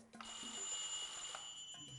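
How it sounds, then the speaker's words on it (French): A doorbell ringing indoors, a steady electronic bell tone sounding alone for about two seconds, fairly faint with a brief soft thump at the start. "On va entendre la sonnerie, normalement."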